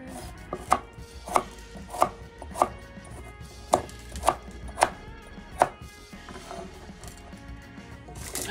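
A knife chops carrots on a board in about nine crisp, evenly spaced strikes, close and clear against a quiet kitchen background, with no talking.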